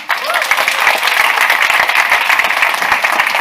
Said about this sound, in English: Please, a big round of applause for Fabienne Cola.